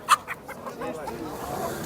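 A hen gives a couple of short clucks up close, followed by softer background chatter of roosters and hens and farmyard noise at a chicken market in Tuzla, Istanbul.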